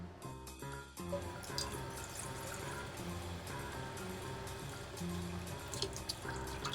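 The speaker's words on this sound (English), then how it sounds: "Now with this pot, we will fill it with water." Tap water runs steadily into a medium-sized pot for pasta, a continuous close splashing rush that slowly shifts in pitch as the pot fills, with a brief faint clatter at the start.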